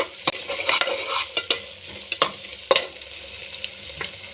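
Ginger garlic paste fries with chillies in a hot pan, a loud close sizzle broken by repeated sharp clicks and scrapes of a spoon stirring against the metal.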